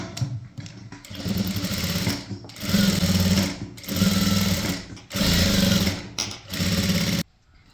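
A sewing machine stitches the neckline of an alia cut kurti top in loud, close, rapid whirring runs of a second or so each, with short pauses between them.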